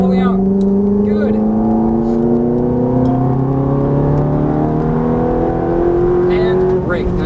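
A Ferrari F430 engine accelerates hard on a track, a loud, steady, rising roar heard from inside the car as the pitch climbs through the gear, with a voice giving brief coaching over it.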